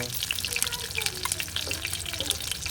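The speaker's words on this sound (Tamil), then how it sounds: "தண்ணி அப்படியே மேலே தண்ணி அப்படியே ஊற்றிவிட" Water pours and splashes steadily, with small gurgles and drips over a constant running stream.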